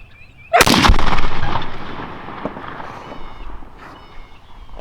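A single loud shotgun blast firing a Heavy Shot Triple Beard turkey shell at a 20-yard test outdoors, a sharp close report followed by a long rolling echo that slowly fades.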